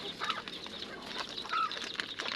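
Chickens with newly hatched chicks on a backyard poultry nest: several soft clucks and high peeping calls close by, with light rustling and wing movement, no speech.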